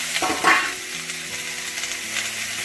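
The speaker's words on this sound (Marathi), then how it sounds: "आपण हे शेंगा आहेत ना तेलात तळून घ्यायच्या आहेत" Drumsticks (moringa pods) frying in oil in a home kitchen pot, a steady sizzle with a brief louder burst near the start, close and alone without talk.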